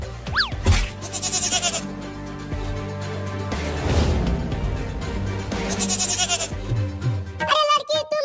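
A cartoon goat bleats in short wavering cries amid lively background music and sound effects, with voices talking around it.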